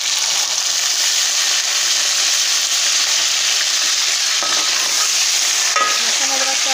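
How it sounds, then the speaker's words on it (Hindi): Tomatoes are stirred into browned onions frying in a pan, giving a steady close sizzle with soft scraping and stirring sounds throughout. "अब मैं इसमें टमाटर ऐड करूँगी।"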